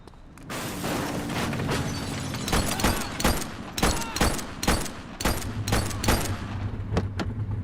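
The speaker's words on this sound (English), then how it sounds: "That gunfire?" Gunfire rings out in the police video game The Precinct on PC, a rapid series of sharp shots in clustered bursts over a low background hum, loud and fairly close.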